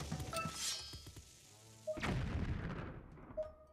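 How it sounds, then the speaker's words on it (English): A rolled bomb detonates in The Legend of Zelda: Skyward Sword, a heavy booming blast near the two-second mark that rumbles and decays, with softer game thumps and chimes around it and no talking. "Time to roll a bomb right down over there."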